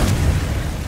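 The Confringo explosive spell goes off in Hogwarts Legacy, a single loud, deep blast that rumbles briefly and fades within a second.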